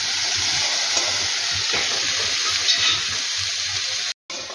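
Taro stolons go into a pan already seasoned with turmeric for a prawn and mustard dish and fry with a steady, moderate sizzle. Faint stirring sounds come through, and there is a short gap near the end.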